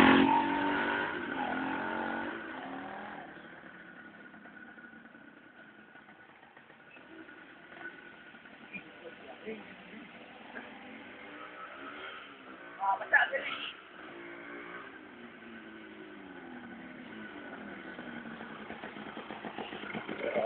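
Motorcycle engine running on a road, a steady mid-pitched drone with a brief rev surge near the middle, heard from close by while people talk over it.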